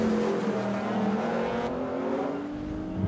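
A Bristol-powered AC Ace racing car climbs the hill at Chateau Impney, its engine note rising and holding under load as it accelerates past, loud and close, then easing slightly as it moves on.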